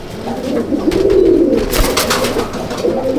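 Teddy pigeons coo in a loft, a steady run of low, rounded calls swelling and fading close by, with faint rustling behind and no talk.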